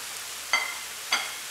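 Two short bursts of sizzling as bean sprouts hit a hot wok for a pork and ginger stir-fry, each quickly fading, over a low steady background hiss.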